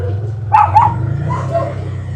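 A pet dog at a rural roadside in Dolores, Quezon gives a couple of short barks or yips, fairly close, over a steady low engine hum from an idling tuk-tuk.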